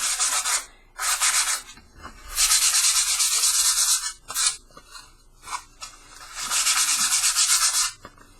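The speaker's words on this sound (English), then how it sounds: "I'm going to take some sandpaper and I'm just going to smooth out the edges and the tops a little bit." Sandpaper rubs over the cut edges of tin cans in several long, rasping strokes separated by short pauses, close and fairly loud, with no talk.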